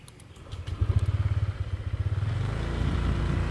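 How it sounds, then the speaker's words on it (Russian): A motorbike is started and settles into a rapid, even idle, its close, throbbing low engine pulses growing steadier and a little louder over a few seconds, with no talking. "запускаю байк"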